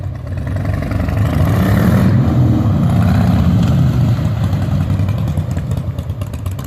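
A Harley-Davidson Softail motorcycle rides past close by, its loud engine rumbling steadily and rising and falling as it accelerates and shifts through the gears.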